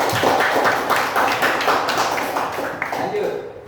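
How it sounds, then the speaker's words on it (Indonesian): Students in a junior high school classroom clap together in a quick, steady burst of applause that fills the room, then thins and fades out near the end. "berikan tepuk tangan dulu"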